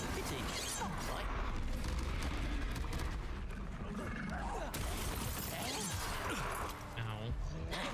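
Confringo blasting spells crackle and burst through dense, continuous spell-combat noise in Hogwarts Legacy, with heavy low rumble and a player's voice talking over the fight.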